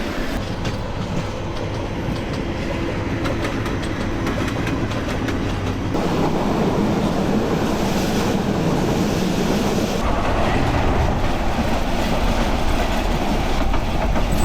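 A Rangpur Express passenger train runs on rails at night on the route from northern Bangladesh to Dhaka. A loud, close, continuous rumble with rhythmic clickety-clack grows heavier partway through, and no one speaks.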